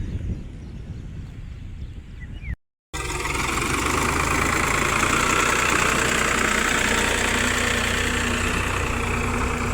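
A tractor engine runs loudly and steadily nearby in a farm field during peanut and millet sowing, a constant rumbling drone after a brief quieter stretch and a moment of silence.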